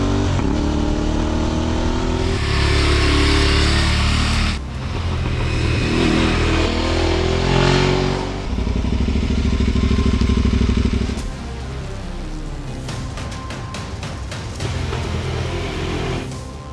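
An Aprilia Tuareg 660 motorcycle engine drones loudly at close range on the road, accelerating and shifting through gears with rushing wind, continuous for the whole stretch.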